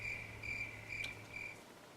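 Cricket chirping played as a sound effect: a steady run of bright, evenly spaced chirp bursts in a regular rhythm, fairly close and alone, fading out near the end.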